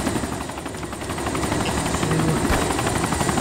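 Helicopter flying in the Arma 2 military video game, a loud continuous rotor thrum and engine drone steady throughout, with no talk.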